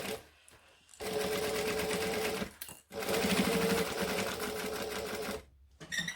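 A sewing machine stitches a bag, running in two steady stretches with a brief pause between them, close and clear.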